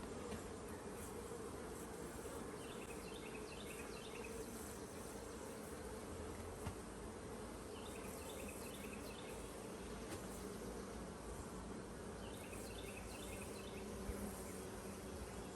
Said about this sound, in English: this hive here is just packed out with bees